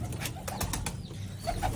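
Kaliyari pigeons in a breeding setup give faint, soft coos and brief rustles of wings, all low and close against quiet room noise.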